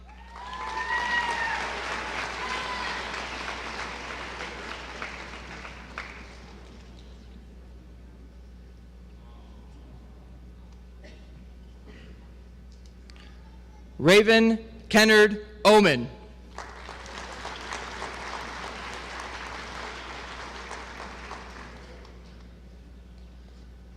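Audience clapping for graduates receiving diplomas at the 2018 Fostoria City Schools graduation, two bursts of crowd applause separated by a quiet stretch where a single voice reads names.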